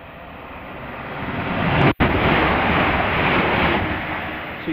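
A Class 350 electric train approaches on the West Coast Main Line at Acton Bridge, a loud broad rushing roar that swells and holds close, broken by one brief dropout, with no talking.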